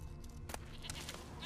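A goat bleats in The Witcher 3 open-world game, one short bleat near the middle with fainter bleating later, over a steady low ambient game backdrop.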